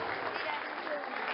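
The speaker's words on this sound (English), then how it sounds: "can we hear another round of applause for him?" An audience claps at a live music show, a dense and even wash of applause throughout the short stretch, with a voice faintly underneath.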